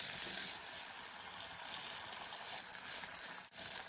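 Eggs frying with water spinach in a pan give off a steady, soft sizzle and crackle, with a brief dip near the end.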